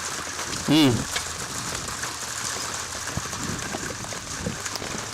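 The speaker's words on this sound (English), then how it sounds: "Goodness gracious, these are some big drops." Big raindrops spatter onto surfaces at a baseball game during a brief shower, a scattered patter of drops under a low crowd murmur, with a short loud tonal sound near the start.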